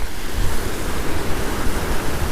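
Bishop Creek, a good-sized stream below the dam at Lake Sabrina near Bishop, California, rushes in a steady broadband wash of flowing water, close and continuous, with a low rumble and no voices.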